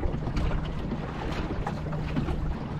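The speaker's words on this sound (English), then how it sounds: "Going to lose the wind in a minute because it's coming from the south" Wind buffets the microphone while sailing a dinghy on open water, a steady gusting rush with low rumbling and faint water movement, no voices.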